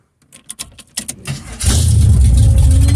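Chevrolet C10 truck, raised on a jack, started with a spare key: faint clicks and rattles, a few uneven cranking bursts, then the engine catches and settles into a loud, rough, steady idle.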